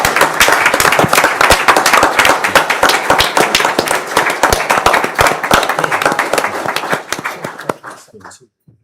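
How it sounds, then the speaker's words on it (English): Clapping bursts out at a county council meeting, loud, close and dense for about seven seconds before fading to a few scattered claps and faint voices. "Let's give him a round of applause"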